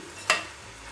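Spices with turmeric, chili powder and salt fry in a pan. A faint steady sizzle carries one quick, bright scrape of stirring, close and brief, with no speech.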